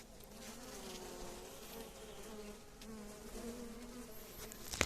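Honeybees buzz inside a hive while a queen is being introduced, a faint, close, continuous droning hum with wavering pitch and a small knock at the very end.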